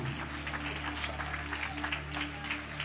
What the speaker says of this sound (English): Come on, give a strong round of applause to the Lord.